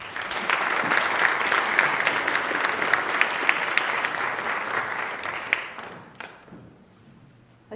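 A lecture audience gives sustained, dense applause to welcome a guest speaker, Dr. Pamela Eisenbaum. It holds steady for about six seconds, then thins out and fades to quiet.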